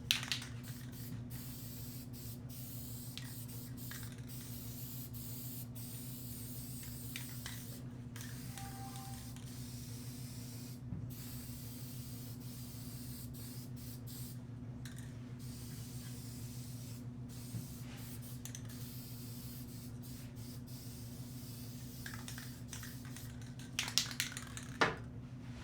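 Hammered black spray paint hissing steadily from an aerosol can onto a shovel, a continuous close spray that runs throughout with brief clicks and pauses near the end.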